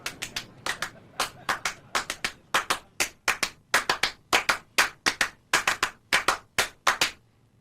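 Hand clapping in a performance of Steve Reich's Clapping Music, 1972: crisp, close claps in tight interlocking rhythmic groups, steady and dry with short pauses between phrases, no voices.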